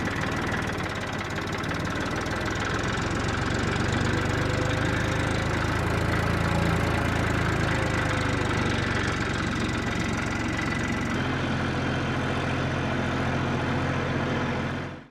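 A tractor engine pulls a plank (pata) across a farm field to level it before wheat sowing, a steady diesel chugging drone heard close and continuous, shifting tone slightly near the end.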